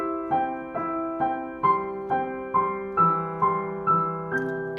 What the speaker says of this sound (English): Step number 5 is let's try this exercise with an arpeggio.